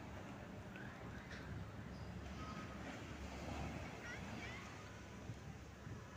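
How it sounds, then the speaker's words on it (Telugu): Strong sea waves surge onto Kotha Koduru beach in Nellore, heard as a steady, loud broadband roar of surf mixed with wind buffeting the microphone, continuous and unbroken. "అలలు ఉధృతంగా వస్తున్నాయి, కానీ ఇతను దేనికోసమో వెతుకుతున్నాడు"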